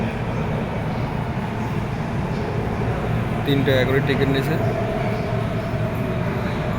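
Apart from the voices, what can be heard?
Wuhan Metro train arriving at station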